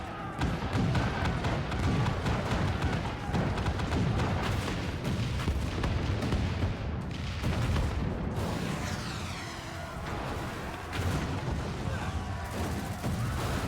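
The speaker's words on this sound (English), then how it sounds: "All cannons! Fire at will! Let no man say we neglected to knock!" Cannons fire in a siege battle on castle gates in the video game Final Fantasy XIV Stormblood, a dense, continuous barrage of booms and thuds with game music and effects layered throughout.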